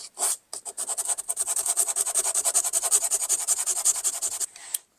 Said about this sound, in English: just sanding it blends it nicely with the existing pavement